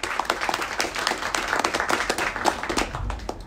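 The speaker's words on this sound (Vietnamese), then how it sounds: "hãy cùng dành cho hai anh một tràng vỗ tay thật lớn đi ạ." Lively audience applause for two finance experts at a Vietnamese investment seminar, many hands clapping in a dense, slightly uneven patter that stays fairly loud and close throughout.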